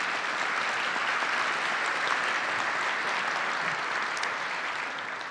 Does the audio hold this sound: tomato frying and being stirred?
no